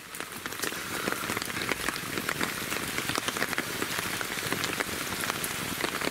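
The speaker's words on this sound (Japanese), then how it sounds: "すげえ雨だな" Heavy rain pours steadily near the old Sawayama Tunnel in Shiga, Japan, a dense hiss of drops striking surfaces with scattered sharper splashes, constant and close throughout.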